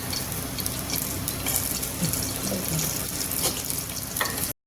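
Steady sizzling of garlic frying in hot oil for potato-eggplant curry, a continuous hiss with occasional crackles and pops, close by.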